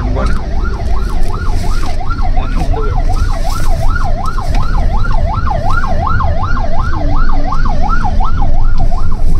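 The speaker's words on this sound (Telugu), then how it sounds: "ఓ అంబులెన్స్ వెళ్ళొచ్చు." A wailing ambulance siren cycles rapidly and steadily up and down, loud and nearby, over traffic noise.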